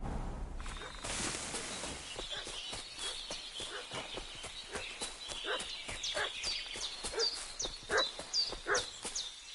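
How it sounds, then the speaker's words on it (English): A dog barks repeatedly in a medieval village in Kingdom Come: Deliverance II, sharp barks growing louder and quicker toward the end, over the steady clip-clop of horse hooves on the ground. "What's that dog making such a fuss about?"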